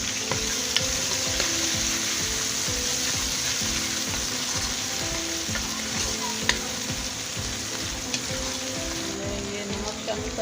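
Finely chopped tomatoes frying in a pan for tinda curry, giving a constant, even sizzle and crackle throughout with occasional soft stirring taps, close up and without any talking.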